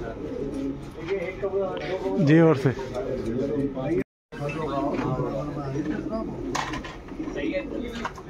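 Pigeons coo softly in the background while someone talks over them, with a brief silent gap midway.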